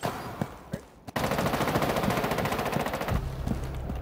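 Video game gunfire sounds as a sustained automatic burst of rapid, loud shots lasting about two seconds, preceded by a few scattered single shots and followed by a quieter tail.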